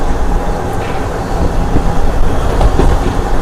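A Nandyal–Tirupati DEMU passenger train runs at speed with a loud, continuous rumble and faint rhythmic rail clatter heard from on board, steady throughout with no talking.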